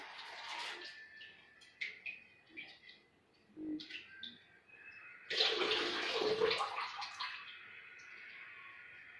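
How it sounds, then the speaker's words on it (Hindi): Water runs and splashes over grapes, with an uneven trickle at first and then a louder, steady gush near the end, mixed with faint bird chirps. "तो अंगूर को धो लिया है"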